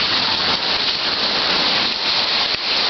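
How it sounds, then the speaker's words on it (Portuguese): Hailstones falling in São José, Santa Catarina, a dense, steady hiss of pellets striking surfaces all around, loud and unbroken throughout. "Granizo. Cai do céu."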